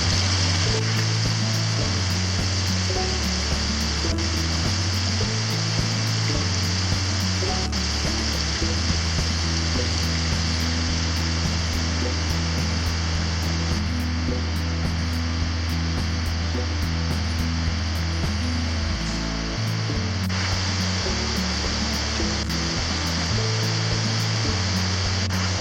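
Running water from many small waterfalls spills down a wet hillside in the White Mountains, New Hampshire, a loud, steady, unbroken rush close by with no voices.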